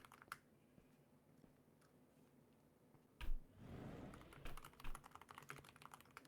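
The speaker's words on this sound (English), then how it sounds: "Are you typing up a storm" Quiet, fairly distant typing on a computer keyboard, scattered soft key taps that pick up into a quicker run of clicks toward the end.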